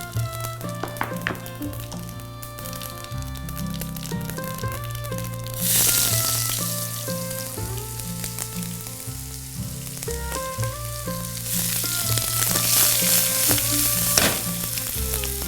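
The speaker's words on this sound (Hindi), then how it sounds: "जीरे को करारा कर लेना है, मतलब पॉपकॉर्न की तरह फुला के हल्का सा नटी कर लेना है" Cumin seeds sizzle and fry in hot ghee and oil for Amritsari urad dal, a steady loud crackling hiss that swells louder in the second half, with music playing underneath.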